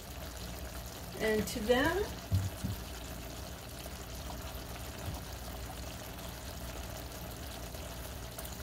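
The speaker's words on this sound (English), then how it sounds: "I'm actually going to put a little more of that reserve broth." Reserve broth pours into a pot of smoked collard greens with bacon, a short gurgling splash early on, followed by quieter background while a person talks.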